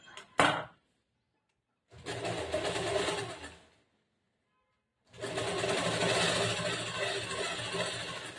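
Sewing machine stitching a blouse in a tailoring class, with a short burst, then two longer runs of rapid mechanical whirring separated by silent pauses.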